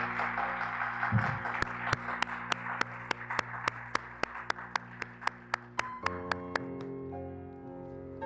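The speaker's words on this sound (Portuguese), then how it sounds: "Vamos dar a Ele uma salva de palmas em nome de Jesus." Members of a church congregation clap along in a steady, evenly spaced rhythm, one close pair of hands standing out above softer clapping. Sustained keyboard-like tones play underneath and swell at the end.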